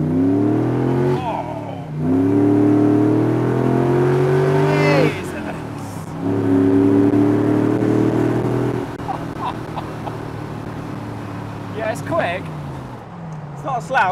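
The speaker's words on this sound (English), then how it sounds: "It's those upper echelons of the revs where it starts to get high-pitched as well." The V8 engine of a TVR V8S revs hard, rising in pitch into a high-pitched howl at the top of the rev range, then drops back and climbs again in repeated loud pulls, with voices at moments.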